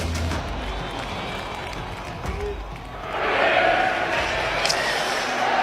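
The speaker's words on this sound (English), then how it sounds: "You know the crowd is ready." A baseball playoff crowd at a Mariners game against the Blue Jays swells into a broad roar halfway through, after a quieter stretch of murmur and scattered noise with some voices.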